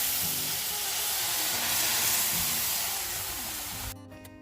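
Water poured into roasted semolina and gram flour in a pan for suji halwa sets off a loud, close, steady sizzling hiss of steam that fades slightly before stopping abruptly near the end, with no talking.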